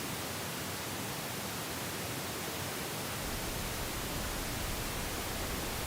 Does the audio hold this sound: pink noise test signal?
yes